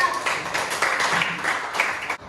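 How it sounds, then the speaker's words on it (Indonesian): A classroom group gives applause to a presenting group, a dense patter of many hands clapping steadily for about two seconds before stopping abruptly. "tepuk tangan buat kelompok 4"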